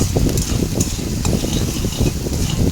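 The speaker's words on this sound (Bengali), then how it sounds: "তারপর এটাকে নাড়াতে থাকবো যতক্ষণ এটা ভাজা ভাজা না হয়ে যাচ্ছে" Semolina with salt and turmeric being stirred as it fries in a pan, a steady scraping and soft sizzling with irregular spoon strokes, close and fairly loud, no talking.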